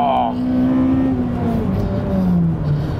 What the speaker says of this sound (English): The exhaust is certainly not going to be to all tastes.